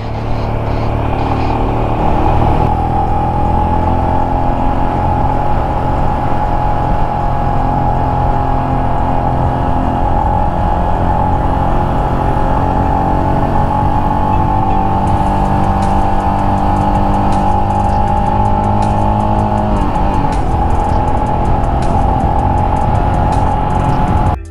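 A Royal Enfield Scram 411 motorcycle rides up the Skyway, its engine a loud, steady drone heard from the saddle, with pitch shifts suggesting gear changes near the start and again later.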